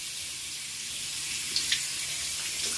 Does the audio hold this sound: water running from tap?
yes